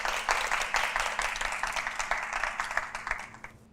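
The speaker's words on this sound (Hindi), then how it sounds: "तो जब तक तो आप लोग अपने लिए तालियां बजाएं।" Applause from game-show players clapping for themselves on a studio set, a quiet, steady patter of many hands that keeps going for several seconds and fades near the end.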